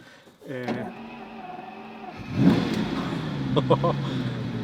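A Lamborghini Countach 25th Anniversary engine idles, then revs up with a rising, throaty exhaust roar, close by and loud, while voices speak briefly near the start.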